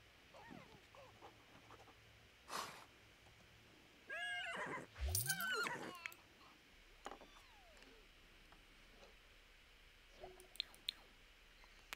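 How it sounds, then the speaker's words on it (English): A horse in The Sims 4 on a ranch gives whinnies and neighs with snorts and small game effects, scattered quietly across the stretch with faint background sound. "Horse is interacting a little with Corgi"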